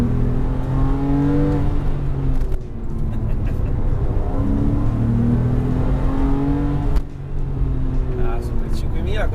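A Porsche 997 Carrera 4S with a naturally aspirated 3.8-litre flat-six revs hard in second gear in sport mode, its rising engine harmonics loud and sustained while someone talks over it.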